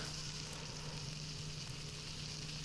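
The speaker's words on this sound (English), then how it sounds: "I started cooking some berries to fight the hunger" Berries sizzle while cooking in a Pokémon-and-Minecraft style game, a steady, even frying hiss with a low hum underneath, continuous and fairly quiet with no talking.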